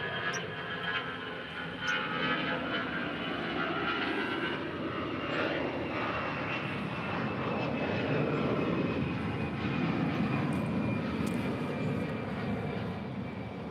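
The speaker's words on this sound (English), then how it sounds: "Coming in from Vegas, that is Spirit Airlines flight 1719 in this A321." A Spirit Airlines A321 arrives at Los Angeles International Airport from Las Vegas, its jet engines a steady, moderately loud rumbling whine that holds for the whole stretch, with no one talking.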